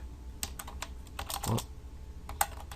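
Keys clatter on a computer keyboard while HTML form code is typed, a run of quick close taps in uneven bursts with short pauses between them, no voices.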